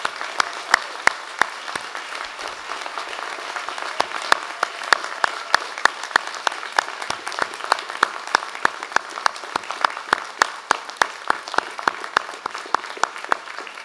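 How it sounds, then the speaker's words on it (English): Sustained applause fills a hall as a crowd claps for new university graduates at a design, architecture and building faculty ceremony, steady and dense with sharper individual claps throughout and no clear cheering. "let's give them a very rousing cheer for that"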